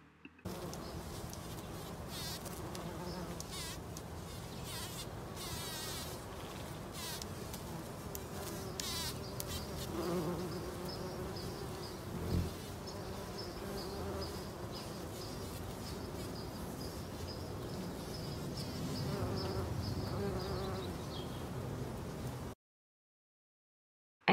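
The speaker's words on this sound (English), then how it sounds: "it's in full bloom and totally abuzz with bees and bumblebees" Bees and bumblebees buzz around a flowering California lilac in full bloom, giving a continuous faint insect hum with individual buzzes passing near and away, steady and without talk for about twenty-two seconds before cutting to silence.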